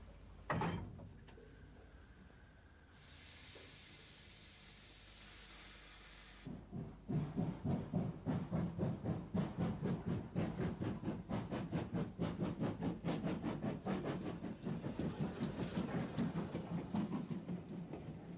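A British Austerity 0-6-0 tank steam locomotive, ex-War Department, runs on a country branch line: a soft steam hiss first, then a loud, steady rhythm of chuffing exhaust beats close by.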